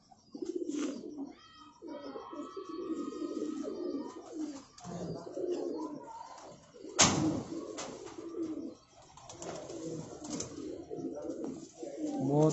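Pigeons at a Rawalpindi loft coo repeatedly in soft, low rolling phrases, with chirps and wing or handling noises mixed in and a sharp clatter midway; someone talks faintly in the background.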